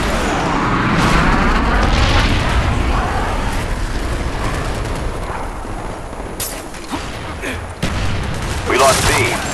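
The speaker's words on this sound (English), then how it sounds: "Friendly napalm strike on the way." Napalm strike explosions in a video game battle, a loud sustained roar of blasts and crackling gunfire filling the whole stretch, with a few sharper bangs and bursts toward the end.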